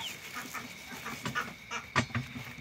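Ducks in a pen at an off-grid homestead, giving several short honking quacks that build toward a louder burst near the end, close by over steady background noise.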